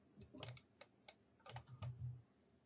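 A computer keyboard is pressed in a quick scattered burst of faint clicking keystrokes, heard close with no talk.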